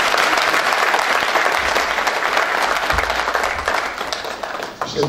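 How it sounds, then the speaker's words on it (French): A crowd at the CoTuMe' 2014 closing ceremony applauds, with dense, sustained clapping that eases slightly toward the end. "je vous demande d'applaudir."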